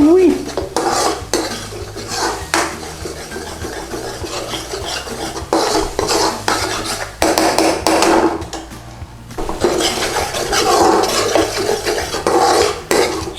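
Spices for chicken dopiaza are stirred in oil in a pan with a metal utensil, scraping and clinking against the pan continuously and up close, with a soft sizzle underneath.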